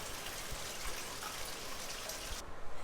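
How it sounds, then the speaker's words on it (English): A urinal flushes in a public restroom, a soft continuous rush of running water that stops abruptly near the end. "Then we're going to make sure we flush it"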